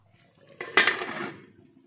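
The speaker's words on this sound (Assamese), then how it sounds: "মাছখিনি দিয়াৰ পিছত এইখিনি ঢাকনখন লগাই দিম" A lid is set onto a pot of simmering fish curry, giving one short clattering knock followed by a brief ringing tail that fades within a second against quiet kitchen background.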